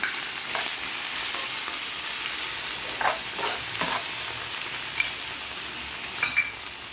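Onion fries in a pan with ginger paste for chicken masala avalakki, a steady sizzle with a few stirring scrapes and clinks, heard alone.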